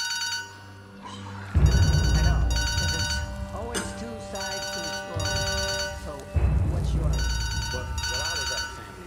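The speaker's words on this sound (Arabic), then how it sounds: "موبايلك بيرن" A mobile phone rings with a repeating musical ringtone in an Egyptian action film scene, loud bursts of melody that continue while people talk over it.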